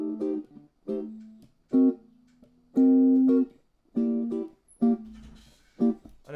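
A jazz progression moves from a minor seven flat five chord through an altered chord and resolves to the tonic, played as a series of short detached chord stabs with a couple of longer held chords, close and unaccompanied.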